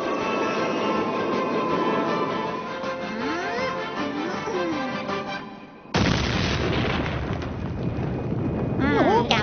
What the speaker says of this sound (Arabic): أسمع صوت انفجار